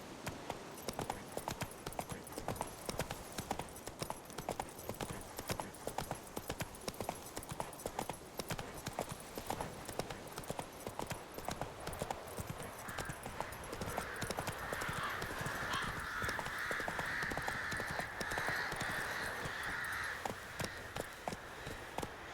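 A horse gallops in The Witcher 3, its hooves clip-clopping in a rapid, steady rhythm throughout, loud and close, with wind and crow caws rising behind it toward the end.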